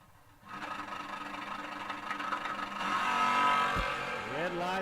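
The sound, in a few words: drag racing car launching down the track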